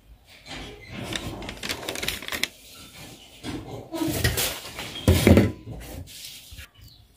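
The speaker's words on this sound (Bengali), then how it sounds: "তো এই যে আমি পাউরুটিগুলো কিন্তু কেটে ফেলছি।" A knife saws through a loaf of bread, giving irregular rasping strokes and soft scraping with a few knocks against a board, close and moderately quiet.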